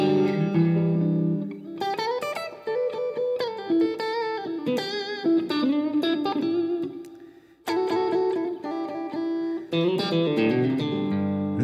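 Electric guitar played through a clean amp tone with reverb, ringing chords and single notes in a steady melodic phrase, close and loud with no talking.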